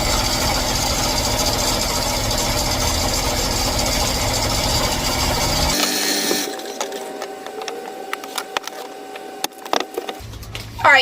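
Embroidery machine stitching out a bow design on a sweatshirt side held in a 9x8 magnetic hoop, a loud steady whirring hum for about six seconds that drops off, followed by quieter intermittent clicks and machine noises.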